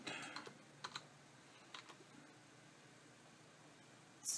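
Faint keystrokes on a computer keyboard, a few quick taps in a short burst, then mostly quiet room tone.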